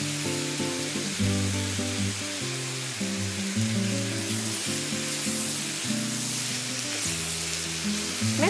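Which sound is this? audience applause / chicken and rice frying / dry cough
chicken and rice frying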